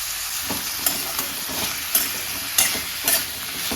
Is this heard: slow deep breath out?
no